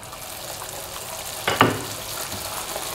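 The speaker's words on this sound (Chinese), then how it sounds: "油热以后放入饼皮" Flatbread dough slid into hot oil for a homemade fried bread, giving a sudden burst of bubbling sizzle partway through, over a steady low frying hiss.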